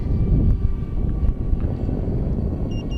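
An FMS A-10 Thunderbolt II RC jet flies its landing approach with gear and flaps down, its ducted-fan engines giving a loud steady rushing whir with faint whistling tones and a few brief clicks.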